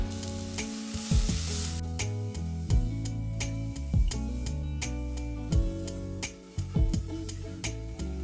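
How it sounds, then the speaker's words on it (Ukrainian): Steady sizzling of button mushrooms frying in a pan, with occasional clinks and a musical backing running throughout. "Коли ми закинули смажити шампіньони"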